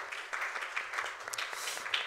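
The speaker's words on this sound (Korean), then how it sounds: "하나님께 영광과 박수 올려드리겠습니다" A church congregation applauds during a worship service, producing a soft, steady patter of many hands clapping at a distance. It sounds fairly faint and continuous throughout, with no voices standing out.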